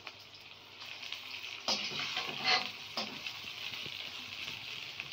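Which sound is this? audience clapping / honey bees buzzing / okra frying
okra frying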